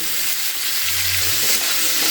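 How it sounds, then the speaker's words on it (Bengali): Radish and flat beans fry in a pan with salt, giving a steady, dense sizzle that carries through the whole stretch at close range, with a low rumble rising briefly partway through. "এটা দিয়ে এর সাথে বেশ কিছুক্ষণ ভাজা ভাজা করে নেব"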